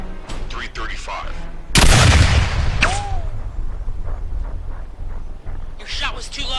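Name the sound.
artillery gunfire in an action movie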